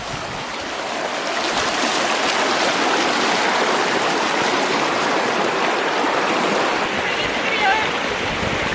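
A river along the Pacific Crest Trail rushes loudly and steadily close by, a continuous broadband wash of flowing water.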